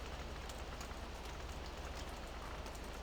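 Steady rain falls in Farming Simulator 17 on a Slovak village farm map with seasons, a constant even hiss of drops on surfaces with no breaks and no one talking.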